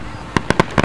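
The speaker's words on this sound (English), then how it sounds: "Look, fireworks." Fireworks bursting outdoors at a public display, with five sharp booming explosions arriving in quick succession after a quiet moment, loud and fairly close.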